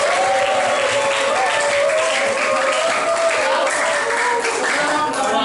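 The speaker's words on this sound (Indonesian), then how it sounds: "Tepuk tangan semua." Pupils in an economics lesson clap together, a continuous close patter lasting several seconds with voices calling and chattering through it.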